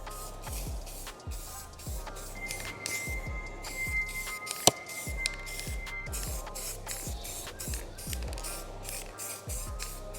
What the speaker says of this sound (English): I gave them a coat of the supplied lacquer spray.